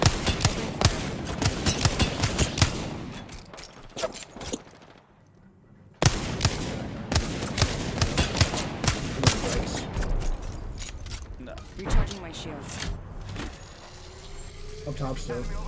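Video game gunfire crackles in rapid bursts and repeated shots, loud and close, with a brief lull before firing resumes among engine-like rumbles and in-game effects, while voices talk over it.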